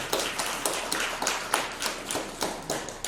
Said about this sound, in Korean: 크게 격려의 박수, 축복의 박수 주시기 바랍니다.